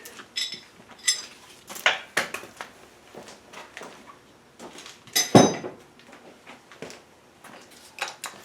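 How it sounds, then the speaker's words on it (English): A metal bolt drops during the teardown of a 2007 GMC Yukon engine, among scattered sharp metallic clinks and clatters, with one louder clanking impact midway. "And drop the bolt."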